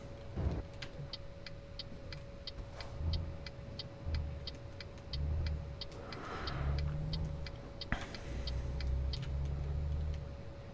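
A truck with a new engine rumbles along steadily in Euro Truck Simulator 2, a low droning hum with a regular indicator clicking on top.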